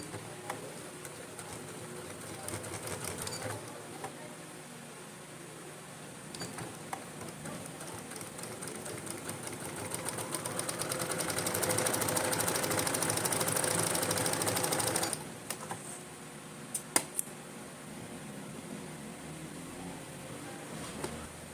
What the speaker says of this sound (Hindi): इसको भी बिल्कुल वैसे ही साथ में सिलाई कर लेंगे